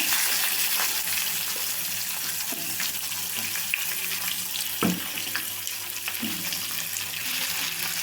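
Sliced onions fry lightly in a pan for a bitter gourd onion curry, making a constant bubbling hiss with a few scraping stirs, like running water.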